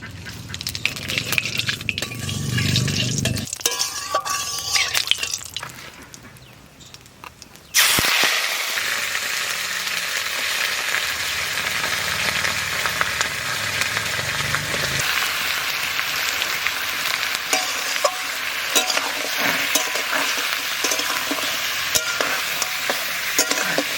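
Dried red chillies and cumin seeds hit hot mustard oil in a village kitchen, giving a loud, steady frying sizzle that flares sharply partway through and then holds as a dense crackle.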